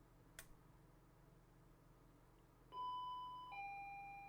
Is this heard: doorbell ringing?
yes